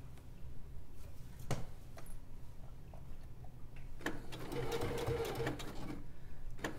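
A sewing machine stitching a crossbody bag runs in a steady, quiet mechanical whir with faint ticking, growing busier and louder toward the end, with no voice over it.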